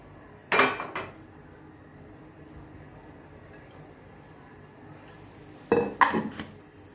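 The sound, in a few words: pan and oil being handled while cooking potato fry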